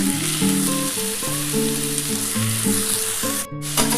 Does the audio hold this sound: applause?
no